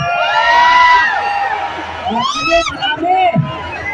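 A crowd of young voices shouts and cheers together at a protest rally against corruption in the Philippines, loud and close, with whoops rising and falling over a couple of seconds.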